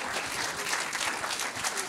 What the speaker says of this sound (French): On peut l'applaudir, bien évidemment.